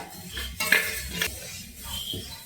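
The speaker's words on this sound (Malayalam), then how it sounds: "ഈ ഒരു ഇതുപോലെ ജസ്റ്റ് ഒന്ന് ഇളക്കി കൊടുത്ത്" A spoon stirs rice roasting in a pan over a medium flame for Kerala-style ariyunda, with close scraping and clinking of metal against the pan and no voices.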